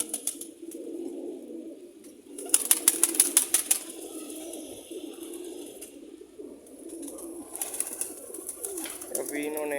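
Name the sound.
pigeons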